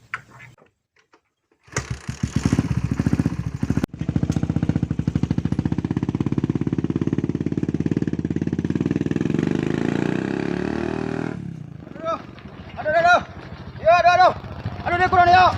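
A motorcycle engine runs steadily and loudly for about ten seconds with a rough rattling tone, then cuts out, and people talk and exclaim afterward.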